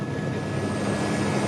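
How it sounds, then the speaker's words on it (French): A helicopter flying over the sea in extreme wind makes a steady, loud, broadband engine and rotor roar with a thin whine, continuous for a brief stretch and with no talk. "Thierry le pilote n'a pas son pareil pour mener son hélicoptère dans les conditions de vent extrême."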